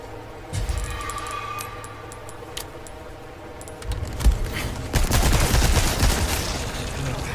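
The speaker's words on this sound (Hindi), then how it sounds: "जा रही है सब मशीन गन कितनी खतरनाक है" Submachine gun fire in Resident Evil 4, bursts of rapid shots that swell in the latter half, mixed with clicks and clatter, loud and close.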